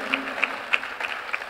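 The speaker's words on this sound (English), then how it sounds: "I think this deserves another round of applause" A church congregation applauds during a sermon on marriage, with distinct claps landing in a regular rhythm about three times a second over a soft background wash.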